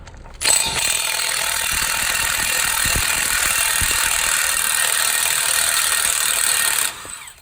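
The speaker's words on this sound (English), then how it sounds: "you will need a 36 millimeter socket and take the axle nut off" A steady, continuous mechanical buzzing whir runs for about six seconds, close and fairly loud, starting and stopping abruptly: a power ratchet with a 36 mm socket removing the axle nut on a Ram 1500 truck.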